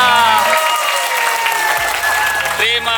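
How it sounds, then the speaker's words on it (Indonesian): A crowd at an alumni religious gathering in Jakarta applauds steadily and loudly, with sustained music or tones running through the clapping. "Tepuk tangan semuanya."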